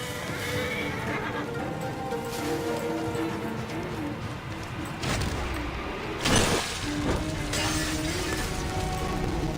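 A horse in the Assassin's Creed Origins video game neighs loudly among clopping hooves and mechanical clicks, with a sharp whinny standing out partway through.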